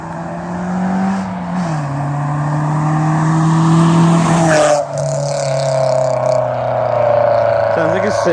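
Nissan Silvia S15 running on its old exhaust, a loud, steady close engine drone with a gradual rise in pitch, a brief dip near the middle, then a sustained higher note.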